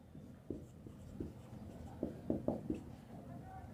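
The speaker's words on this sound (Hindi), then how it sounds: "यहाँ पे अभी लिख रहा हूँ मास अपॉन वॉल्यूम, हिंदी में भी लिखूंगा अभी" Writing on a board gives soft scratchy strokes and taps in short irregular clusters, faint and close, with a quiet background hum.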